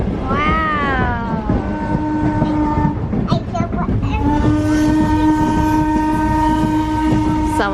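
A Strasburg Rail Road train ride, with a loud sustained horn sounding twice over the steady rumble of the rolling cars, and a voice nearby.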